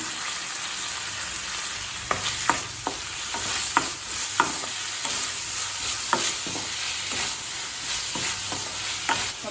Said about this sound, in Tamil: கேப்சிகம் பாருங்கள் நல்லாவே வதங்கிடுச்சு